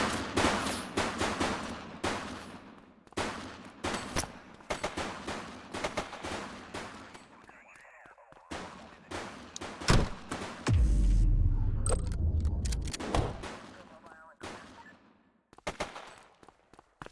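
Gunfire in the police video game The Precinct: rapid, repeated shots fired in bursts over a steady background, with a heavier low rumbling stretch in the middle before the firing thins out.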